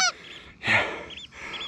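A goose gives a loud honk, followed by more honking calls from a flock, with a brief quiet gap between bursts, during a goose hunt in New Zealand.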